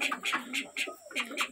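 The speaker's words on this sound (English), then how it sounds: "The pigeons, guys." Pigeons coo inside a coop with a steady run of soft, throaty calls repeating about every quarter second, close and clear, with no talking.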